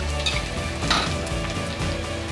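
Whole tempering spices, panch phoron, fry in hot oil for a taro-leaf and hilsa-head dish, crackling and sizzling loudly and close, with light clinks of a utensil against the pan.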